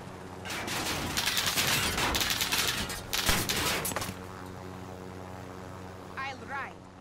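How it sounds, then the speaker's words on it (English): Bursts of automatic gunfire from Call of Duty Warzone crackle through the first four seconds, loud and dense, over a steady engine drone, followed by quieter game effects and a brief voice line. "Those bastards are shooting at me!"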